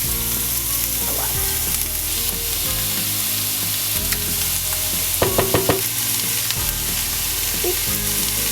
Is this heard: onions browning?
yes